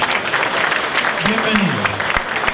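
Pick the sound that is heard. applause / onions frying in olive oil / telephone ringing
applause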